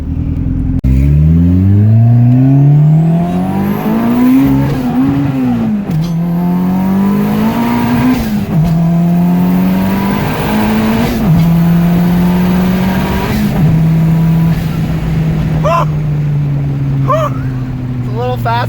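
A car accelerates hard and close, its engine climbing in pitch through several gear pulls with brief dips at each shift, then settling into a steadier drone.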